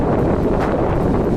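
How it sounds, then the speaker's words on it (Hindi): Strong wind on Miramar beach in Goa buffets the microphone in loud, continuous gusts, producing a dense roaring rumble with no voices heard. "हवा चल रही है यहाँ पे।"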